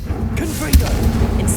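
An Incendio fire spell cast in Hogwarts Legacy on PS5, a sudden fiery burst with a low thump and whoosh rising out of steady game ambience and music, near and fairly loud, with faint voice sounds under it.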